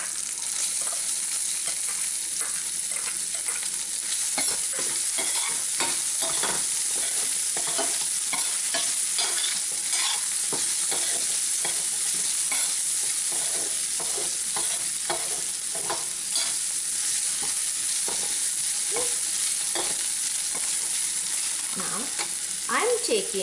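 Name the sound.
stir-frying vegetables in a pan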